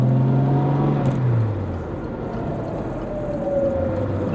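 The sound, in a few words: 1968 Jaguar E-Type coupe driving and accelerating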